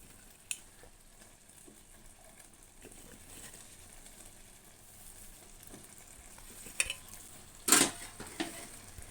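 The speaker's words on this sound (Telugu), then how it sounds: "ఇప్పుడు ఒకసారి కలుపుకుందామండి" Drumstick and prawn curry stirred in a pan, a low frying sizzle under occasional spoon scrapes and taps, with a louder clatter near the end; close, quiet, no talk.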